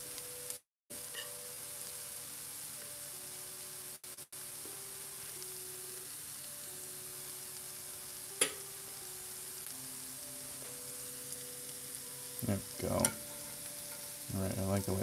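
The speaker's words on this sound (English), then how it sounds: "I'm going to take just a little piece of cauliflower and fry that up too" A small piece of cauliflower mushroom frying in a pan, a steady, moderately loud hiss with a few sharp clicks and a burst of clattering stirring toward the end.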